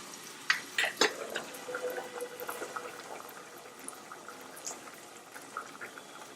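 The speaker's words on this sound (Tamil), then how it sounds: "இது புளி தண்ணியில் வெந்துட்டு இருக்கிற காய் நம்மளோடது." Faint bubbling and gentle popping of vegetables simmering in tamarind water in a pot for Pongal kuzhambu, soft and continuous, with a few sharper pops at the start.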